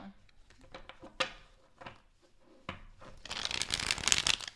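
Several crisp flicks and taps lead into a dense, rapid riffle of tarot cards being shuffled close by, ending in a sustained fluttering burst.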